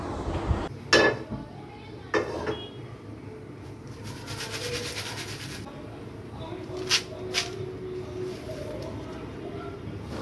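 Popped corn with darkened spices is shaken in a pan, making several short rattling, clinking bursts spaced apart, while a person talks over parts of it.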